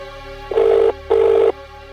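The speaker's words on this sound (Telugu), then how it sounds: "ఫోన్ వస్తుంది" Two bursts of an electronic telephone ring, each about half a second long, separated by a short gap and heard alone over a quiet background hum.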